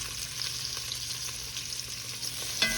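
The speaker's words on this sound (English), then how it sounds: "I got a pot here, got a little oil in there, and we wanna do little by little. I wanna put a little sear on this." Leftover prime rib beef tips sear in a little hot oil in a pot, a steady close sizzle and crackle throughout with a faint scrape or clunk near the end.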